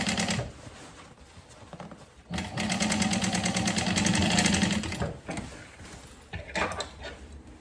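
A sewing machine stitches thick denim or leather in bursts, its rapid close mechanical whir running for a few seconds, then pausing and restarting briefly.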